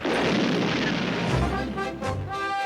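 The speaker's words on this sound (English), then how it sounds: "He used stun grenades." Stun grenades explode in a rapid, loud barrage of booming blasts that run together into a continuous roar, with a few sharper bursts standing out toward the end.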